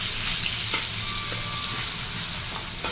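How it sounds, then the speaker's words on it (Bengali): Shrimp frying in hot oil make a steady, close, loud sizzle with small crackles throughout and no voices. "চিংড়িগুলো ভেজে নেবো"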